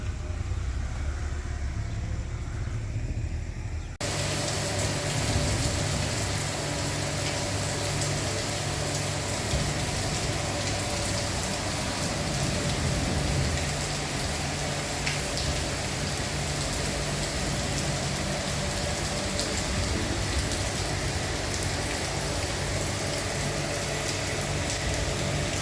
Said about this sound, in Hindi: थोड़ा सा क्लिप बनाया था बारिश का। बारिश बहुत शदीद थी।